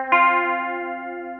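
A single down-picked chord on an electric guitar from a riff, struck once with a sharp attack and left to ring and slowly decay, played clean and alone.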